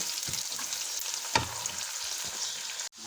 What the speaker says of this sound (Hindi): प्याज ब्राउन करने के लिए रख दी है ताकि जल्दी से और झटपट से हमारी रेसिपी तैयार हो जाए